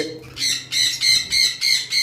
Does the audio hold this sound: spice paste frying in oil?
no